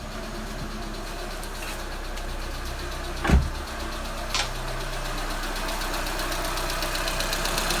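Renault 1.6 K4M petrol engine idling steadily after a timing belt replacement, with a continuous close-up mechanical hum, a faint ticking texture and one brief loud knock partway through, no voices.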